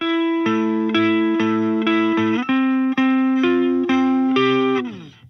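Clean electric guitar played through the Audio Assault Prestige free amp plugin, a high-gain Marshall-style amp set to low gain, sounds a run of sustained, ringing notes and chords that change every half second or so, with no talk.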